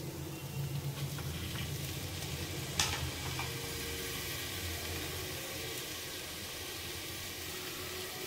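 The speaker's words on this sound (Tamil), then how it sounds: "புதினா கொத்தமல்லி பச்சை மிளகாலாம் நல்லா வதங்கிருச்சு" Mint, coriander and green chilies sauté in a pan with a continuous hissing sizzle and occasional scrapes and a brief clatter of stirring, heard up close with no voices.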